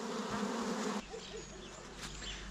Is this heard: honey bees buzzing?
yes